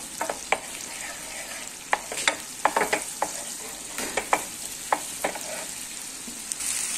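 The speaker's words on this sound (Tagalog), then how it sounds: "gumagawa na tayo ngayon ng mushroom sauce" Mushroom sauce for beef steak sizzles in a pan, a low steady fry broken by scattered sharp clicks and scrapes of stirring, close and without talk.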